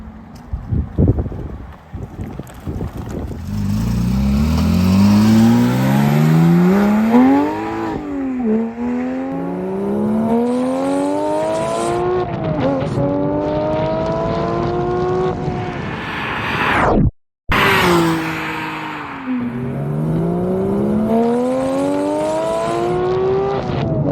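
A 2019 Porsche 911 GT3 Touring roars past in repeated loud flybys, its engine rising through the revs in gear changes and swelling close before dropping away, with wind noise but no talking.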